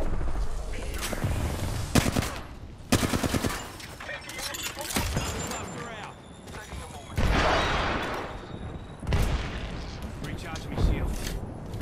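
Rapid bursts of gunfire in Apex Legends, a battle royale video game, crackle and boom repeatedly across the stretch in irregular volleys, loud and dense, with players talking over the shooting.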